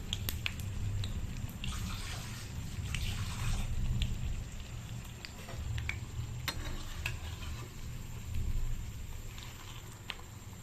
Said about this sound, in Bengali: নিয়ে এইভাবে ব্যাটারের মধ্যে চুবিয়ে নিয়ে তারপরে ভাজবো